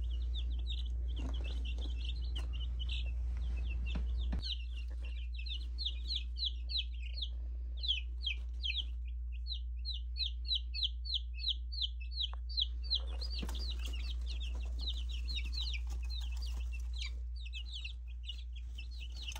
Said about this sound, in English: We just got our baby chicks from the hatchery, and it's time to put them into their new home.